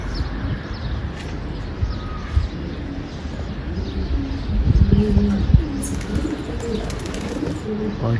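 Pigeons in flight above their loft, with soft cooing and occasional wing flaps over a steady outdoor background, the flock sound swelling slightly midway.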